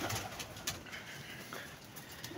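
Pigeons cooing at a rooftop pigeon-keeping spot, soft low coos mixed with scattered wing flaps and clicks at moderate distance, faint ambient noise throughout.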